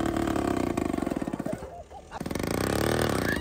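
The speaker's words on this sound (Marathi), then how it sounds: "माऊलीच्या ट्रॅक्टरनी थार इथपर्यंत ओढीत आणली बरं का" Tractor engine labouring as it tows a Thar SUV, a loud close pulsing chug that falters and dips, then picks back up into a steady drone, with a voice speaking over it.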